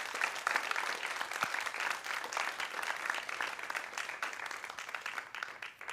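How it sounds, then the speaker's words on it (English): Steady applause from a church congregation at a Unitarian Universalist Sunday service, a dense patter of many hands clapping throughout at moderate level with no voices over it. "Can we get a big round of applause for these folks?"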